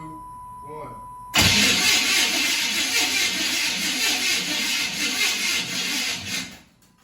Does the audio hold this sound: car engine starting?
yes